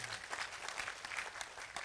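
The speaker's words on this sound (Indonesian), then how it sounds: "tepuk tangan untuk beliau" Applause from an audience at an outdoor gathering, a steady spread of many hands clapping, faint and distant, with no voices standing out.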